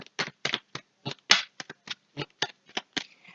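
Playing cards laid down one by one on a table during a card reading, with a dozen or so crisp, close flicks and slaps in a quick irregular rhythm.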